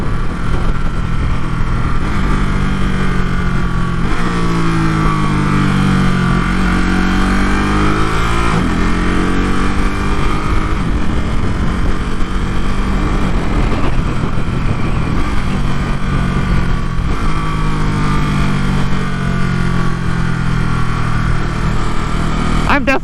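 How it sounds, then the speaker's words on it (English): A motorcycle engine fitted with a quickshifter, recorded through a pin mic inside the rider's helmet, rises through the revs and then drops in short blips at each gear change, under constant wind rush. "let's see if we can pick up some of the Quickshifter sound blipping."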